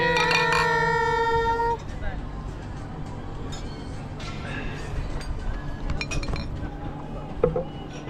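Glasses clinking together in a toast at a bar with a mountain view, a bright ringing clink that rings out at the start before fading into a busy background of chatter and scattered small clinks.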